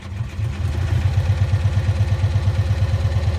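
A 1965 Cushman Truckster engine idles steadily after sitting for over a year, its low, even putter pulsing in a quick regular rhythm, close and loud with a light mechanical clatter.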